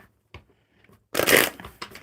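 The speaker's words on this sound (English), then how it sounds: "One more good shuffle for you." Tarot cards shuffled by hand at a casual live card-reading session, a brief soft flick followed by a louder burst of riffling and rustling that trails off in scattered taps.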